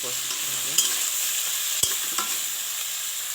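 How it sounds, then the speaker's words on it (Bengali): Green banana pieces frying in oil in a wok, with a steady sizzle and a few sharp clacks of a spatula stirring, close and clear. "কড়াইতে তেল দিয়ে দিলাম দিয়ে কাঁচকলা দিয়ে দেবো নাড়াচড়া"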